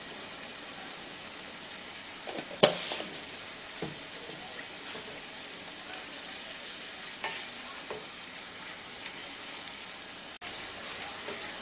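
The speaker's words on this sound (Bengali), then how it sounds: "এখন মশলাটাকে 3-4 মিনিট ধরে ভালো করে একটু কষিয়ে নেব।" Spice paste for a potato and prawn curry fries in a pan with a constant soft sizzle, punctuated by occasional scraping stirs and light clinks, close and moderately quiet without speech.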